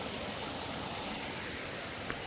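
Waterfall in Lipa City, Batangas, a dense, steady rushing roar of falling water that fills the whole stretch with no talking.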